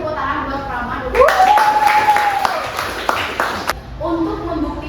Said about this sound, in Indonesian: tepuk tangan buat Prama dulu